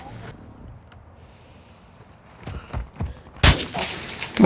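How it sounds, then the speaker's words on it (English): A few sharp gunshots in Call of Duty: Modern Warfare II, scattered and moderately close, ending in one loud crack, with a voice and game noise in the background. "He shot at me."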